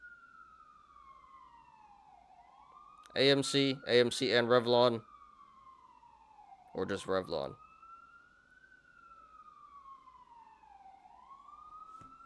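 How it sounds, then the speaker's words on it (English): An emergency vehicle siren wails outside in slow, sweeping rises and falls, steady and moderately distant, running continuously beneath a man's speech in two short bursts. "sorry about the sirens, guys"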